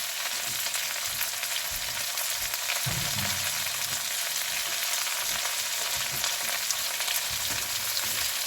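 Mild sausage, red potatoes and onions fry together in a pan, a loud continuous sizzle with occasional low knocks as the mix is stirred.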